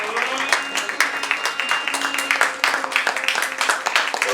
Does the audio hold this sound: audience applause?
yes